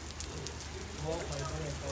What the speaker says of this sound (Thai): ผู้ใดบ่เคยเห็น ฝนตกเครื่องนึงครับ